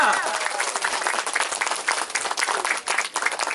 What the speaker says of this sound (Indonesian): Kita sambut dengan tepuk tangan yang luar biasa.